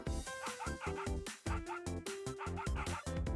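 A small dog in the Nikke video game yips and barks in quick repeated bursts with whimpering tones, sitting over steady game music that plays throughout without pause.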